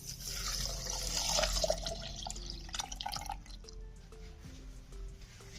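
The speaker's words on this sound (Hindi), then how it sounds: "उसके बाद मैंने ये 2 गिलास दूध लिया, ये डाल दूंगा।" Milk being poured onto half a kilo of strawberries for a homemade milkshake, a soft liquid splashing and trickling close by that tapers off into faint kitchen background noise.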